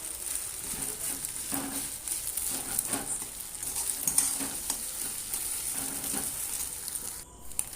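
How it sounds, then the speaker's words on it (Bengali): An egg being fried and scrambled in oil in a pan, with a steady, fairly quiet sizzle and occasional stirring scrapes throughout, and no voices. "ডিমটা আমি এইভাবে ভেজে নিচ্ছি"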